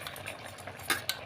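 In a kitchen, a lid comes off a pot of fish curry cooked with drumsticks and a ladle scrapes through it. Soft stirring clinks lead to two sharp metallic clacks near the end.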